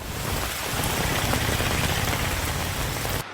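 Heavy rain pours steadily in Thrissur, Kerala, a dense continuous hiss with a low rumble beneath, loud and close throughout with no voices.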